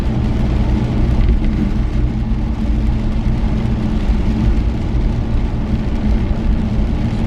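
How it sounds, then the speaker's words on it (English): A loud, steady broadband roar of rain drumming on the roof of a 1984 Chevy truck mixed with engine rumble, continuous throughout with no talking. "rain's coming down"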